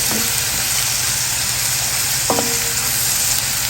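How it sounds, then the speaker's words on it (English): Broccoli sizzles and hisses steadily as it steams in a hot pan, loud and close, with a couple of faint clinks of a utensil partway through. "We're going to let the steam from that kind of slowly cook that broccoli down."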